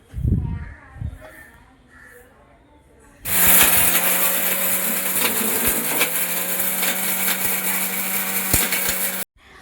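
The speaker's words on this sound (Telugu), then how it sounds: "మిక్సీలో వేసుకుంటే సరిపోతుంది. వీటిని మెత్తగా కొంచెం పురం ఉండేటట్టుగా చూసుకొని గ్రైండ్ చేసుకోవాలి." A mixer grinder whirs loudly and steadily for several seconds, grinding whole spices coarsely, with rattling and clinking of hard bits inside the jar, then stops abruptly.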